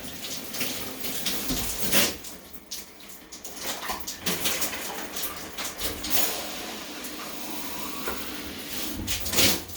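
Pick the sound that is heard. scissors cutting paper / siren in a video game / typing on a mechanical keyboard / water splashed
water splashed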